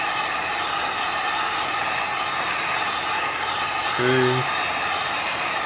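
A heat gun on low heat warms the corner of an iPad 4 screen, giving a steady, close airy roar throughout, with a person briefly speaking near the end.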